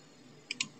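Two quick, crisp mouse clicks close together in a quiet room while selecting the move tool in Photoshop, sharp and near with nothing else around them.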